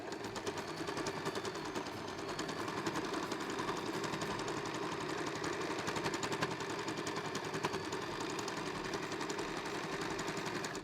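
A sewing machine quilting fabric scraps with a straight-stitch presser foot runs in a fast, steady stitching rhythm throughout, quiet and close, with no voices.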